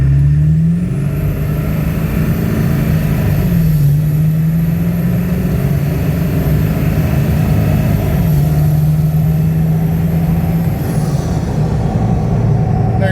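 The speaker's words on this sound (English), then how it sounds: "So a quick 0 to 60 in this truck." A Ford Powerstroke diesel truck, either a 6.0 or a 7.3, accelerates hard from 0 to 60 with a loud engine drone and a high turbo whine. Engine pitch rises and drops at each gear shift, and no one speaks.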